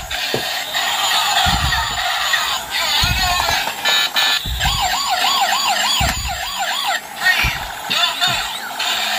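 A red toy police car's battery-powered siren wails in a rapid warbling pattern, loud and continuous, with clicks and handling knocks underneath.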